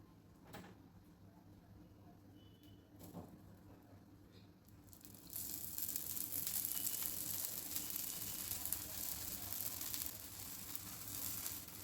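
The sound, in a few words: oil sizzling around sprouted mung bean dosa on griddle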